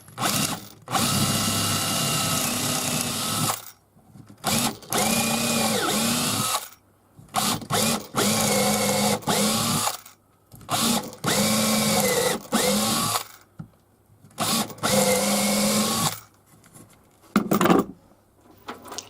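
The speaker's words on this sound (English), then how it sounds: "Here I'm just popping a hole through the base into where the motor is housed." A power drill bores a hole through the base that houses a motor, in several loud, sustained bursts separated by short pauses. The whine rises and falls as the bit cuts. No one talks.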